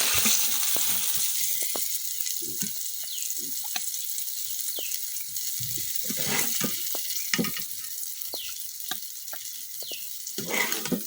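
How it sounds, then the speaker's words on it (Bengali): Eggplant slices fry in a pan, giving a steady, soft sizzle and crackle broken by frequent sharp clinks and scrapes as the pieces are turned, with no voices. "বেগুনগুলো আমি উল্টায় পাল্টায় বাজিয়ে দিচ্ছি"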